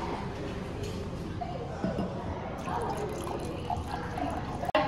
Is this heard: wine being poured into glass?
yes